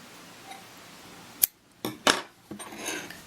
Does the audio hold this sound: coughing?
no